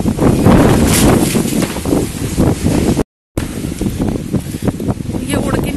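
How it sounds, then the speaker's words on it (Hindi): Strong storm wind roars continuously into the microphone with broadband buffeting, loud and close throughout, briefly cutting out near the middle; someone talks over it. "बहुत तेज तूफान आ रहा है"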